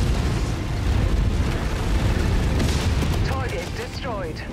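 Explosion of a destroyed target in MechWarrior 5 with Clan Invasion mods, a sustained roaring rumble of blast and debris filling the whole stretch, loud and close, with faint radio chatter near the end.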